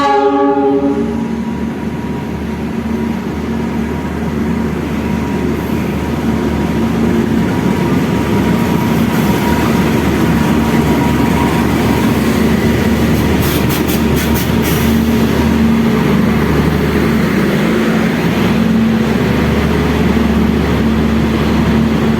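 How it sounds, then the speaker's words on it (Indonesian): The Bima KA7 express passenger train from Surabaya Gubeng to Gambir Jakarta pulls into Kebumen station, a loud, steady rumble of locomotive and cars with a sustained horn blast and clicking wheels, no voices. "kereta api Bima KA7 tiba di Kebumen."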